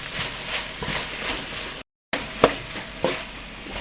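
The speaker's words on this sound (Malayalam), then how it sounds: "നമുക്കതിൽ കട്ട് ചെയ്ത് വെച്ചിട്ടുള്ള തക്കാളി ഇട്ട് കൊടുക്കാം. എന്നിട്ട് അതൊന്നും കൂടി നന്നായിട്ട് വഴറ്റണം." Chopped tomatoes sauté in a pan for Calicut-style chicken biryani, with a steady sizzle, scraping stirs and a few sharp clinks against the pan; sound drops out briefly midway.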